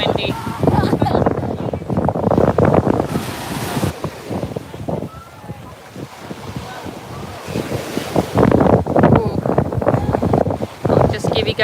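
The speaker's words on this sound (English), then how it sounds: "Oh, it is windy." Strong wind buffets a microphone on a beach in Buzios, Brazil, a loud steady roar with surf rumbling beneath and a voice talking over it at times.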